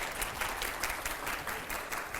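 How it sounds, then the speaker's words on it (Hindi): An audience applauding in a studio, a brief dense burst of clapping with a rapid, slightly uneven rhythm, close and steady throughout, no speech over it. "जरा जोरदार तालियां हो।"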